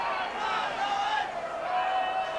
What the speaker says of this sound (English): Much jubilation in the crowd as James Tyson gets his first from 3 attempts.